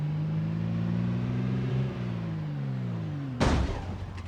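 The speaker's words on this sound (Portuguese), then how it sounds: "Bati o carro em um poste, mas, por algum milagre, ele ainda estava funcionando" A car in the Project Zomboid game drives with a steady engine drone that drops in pitch, then slams into a pole with a sudden loud crash and rattling debris near the end.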